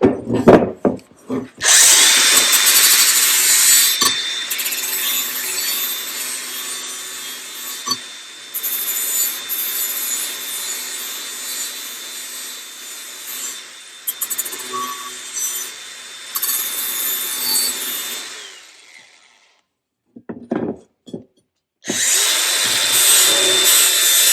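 Lawn mower blades for a zero-turn mower being sharpened with a power tool, a loud continuous grinding rasp in long bursts broken by brief pauses, close and dominant with no speech.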